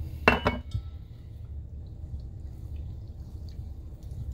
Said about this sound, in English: we're going to stir this and then we're going to walk away, as Alton Brown says.